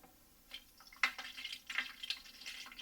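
Cleaning solution poured into a water softener's brine well over salt, giving a soft intermittent liquid trickle and splashing with a few sharper drips, faint and close, with no talking.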